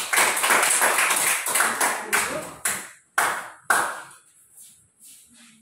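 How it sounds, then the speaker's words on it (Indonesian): A classroom of students applauding a presenting group, a burst of clapping that thins into a few scattered separate claps and fades out. "Berikan aplaus untuk kelompok 4."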